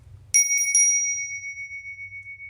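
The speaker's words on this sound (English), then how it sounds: "It's a nice bell." A bicycle-style bell rings three quick times, bright and close, then its tone hangs and slowly fades out over a faint low hum, with no one talking.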